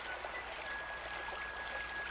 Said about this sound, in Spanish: Este arroyo es la principal fuente de agua del campamento.